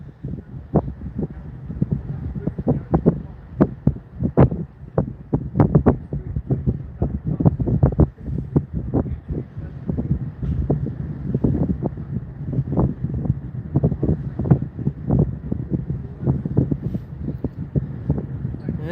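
Gusty wind buffets the microphone on the deck of the P&O Iona cruise ship leaving Cadiz, Spain, giving a continuous low rumble with irregular thumping bursts and voices at times.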